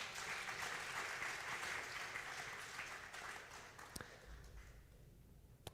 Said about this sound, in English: You can applaud for Hazel.